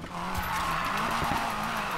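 Tires squealing through a handbrake drift in a Rocket Bunny Nissan Silvia Spec-R Aero in Need for Speed Payback, a sustained loud screech over steady engine drone for two seconds with no talk.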